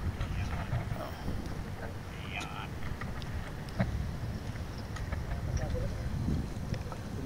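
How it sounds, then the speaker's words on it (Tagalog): Steady wind roars over open sea at night with a fishing boat engine churning underneath, continuous and close, with occasional clatter. "Malakas ang hangin ngayon."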